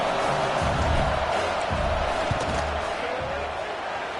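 Steady roar of a big stadium crowd during a college football game between Texas Tech and South Carolina as the kicker lines up a field goal, a dense continuous din with low thumps and talk mixed in.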